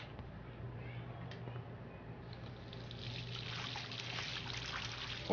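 Flowing water in the video game Life is Strange, a steady trickling stream that grows louder and brighter in the second half, running continuously at moderate distance with faint speech underneath.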